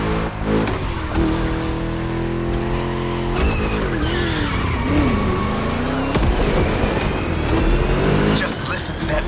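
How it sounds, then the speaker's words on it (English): A loud V8 race car engine in the video game The Crew Motorfest roars and revs continuously, with squealing tires and shifting pitch as the car accelerates and corners. "Just listen to that V8 like a chunky, down-tuned guitar riff."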